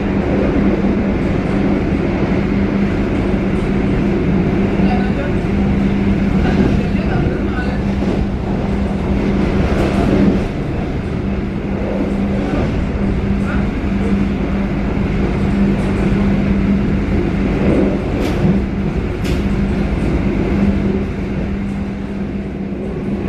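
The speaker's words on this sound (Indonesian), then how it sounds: "Argo Anggrek berpapasan dengan kereta api Kertajaya di stasiun Haurgelis" Onboard the Argo Bromo Anggrek express as it passes the Kertajaya train at Haurgelis station: a loud, continuous rumble of wheels and carriage with a steady hum and occasional sharp rattles.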